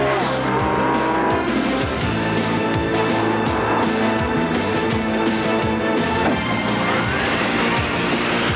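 Mickey Thompson stadium off-road racing trucks, engines roaring continuously with rising and falling revs, tires squealing across the dirt track, a busy, loud wash of several vehicles together.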